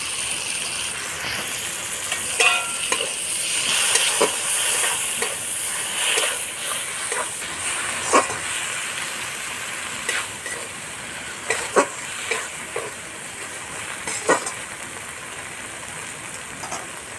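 Cumin and chilli paste, with green and dried chillies and chopped tomato, sizzles loudly in a pan, crackling and spitting with repeated sharp stirring scrapes over a steady hiss.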